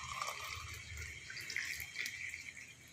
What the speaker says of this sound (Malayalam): നമുക്ക് ക്ലാസ്സിലേക്ക് ഒഴിച്ച് നോക്കാം എങ്ങനെ ഉണ്ടെന്ന് അറിയണ്ടേ.